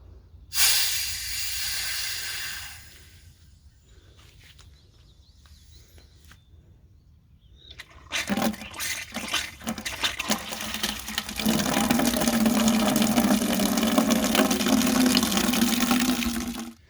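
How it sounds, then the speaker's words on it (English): A faucet fed by a 12-volt pump sputters and hisses as trapped air is let out, goes quiet for a few seconds, then bursts back into spitting, gurgling flow that settles into a steady loud rush of water. "I'm going to turn on this faucet now and let the air out, and then see what we get for water."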